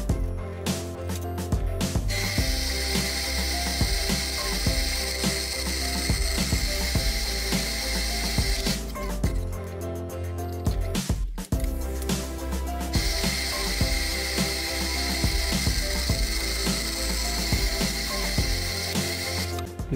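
Power cutting of 20x20 mm square steel tube into two 250 mm pieces: a steady, loud mechanical whine with dense grinding texture runs almost continuously, briefly easing near the middle before resuming, with no talk.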